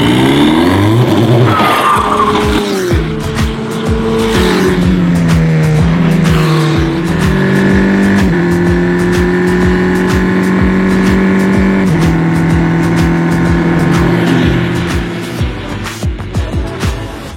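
A race car laps a racing circuit at the GP Explorer event, its engine roaring loud and close with shifting revs, gear changes and tire noise, continuous for the whole stretch.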